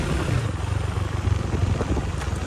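A motorcycle ridden on a village road rumbles with a low engine drone under heavy wind buffeting, loud and close throughout the short stretch.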